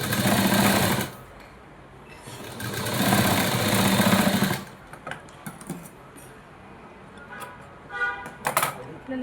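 A sewing machine stitches lace onto a blouse sleeve in two loud, close bursts of rapid whirring, the second longer, followed by quieter handling sounds and brief speech.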